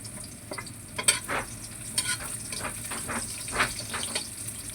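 Onions dropped into a hot frying pan while cooking escabeche tilapia, giving a steady low sizzle with a few sharper crackling bursts and occasional stirring scrapes, fairly faint and without talk.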